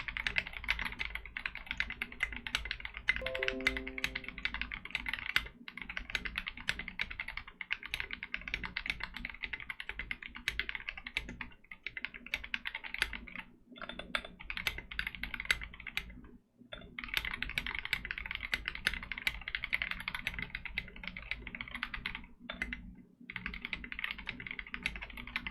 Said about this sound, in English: I'll see how well I can type on this.